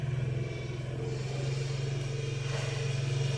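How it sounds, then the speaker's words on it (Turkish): A motor engine drones steadily with a low, throbbing hum, running continuously at an even pace, fairly close. "Mesela bu ses. Motor sesi."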